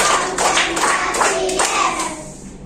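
A group of children clapping along in a counting clap game during a classroom activity, a run of sharp claps in a quick rhythm, close by, with light voices underneath.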